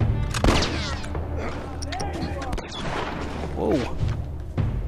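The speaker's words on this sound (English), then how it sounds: "He's still trying to shoot at me, unsuccessfully." Gunfire in The Last of Us during a firefight in a looted town, with scattered shots and thuds mixed among game sounds and voices, fairly loud throughout.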